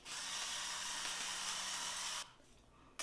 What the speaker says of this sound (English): So a while back, I bought this thing. It's like a scrubber.